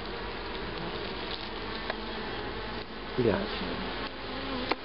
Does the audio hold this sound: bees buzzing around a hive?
yes